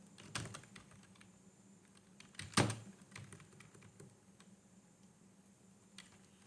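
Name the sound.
typing on a computer keyboard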